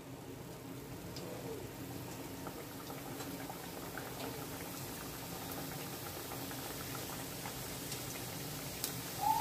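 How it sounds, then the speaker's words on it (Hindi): Samosas frying in a pan of hot oil in a village home kitchen, a steady close bubbling sizzle running throughout with faint birds cooing in the background. "मेरी जो आंटी है अभी समोसे बना रही है"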